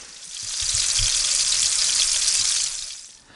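Sausage patties sizzle in a hot pan, a steady, loud hiss that swells in, holds for a couple of seconds, then fades away. Nobody speaks.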